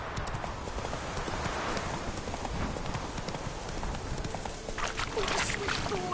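Horse hooves clip-clop steadily in The Witcher 3 as the rider travels, a continuous rhythmic trot at moderate volume over ambient game background, with a brief spoken word from a person.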